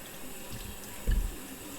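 Kitchen tap water runs into a sink while aubergines are washed under it, a steady soft hiss with a brief low thump partway through.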